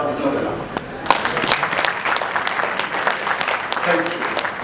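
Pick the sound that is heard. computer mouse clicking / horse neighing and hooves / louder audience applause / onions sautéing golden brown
louder audience applause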